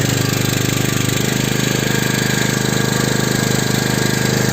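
A Pramatec PS9000 gasoline generator runs steadily under load while powering an electric kettle, giving a loud, continuous engine drone with a buzzing hum, close and unbroken, with no talk.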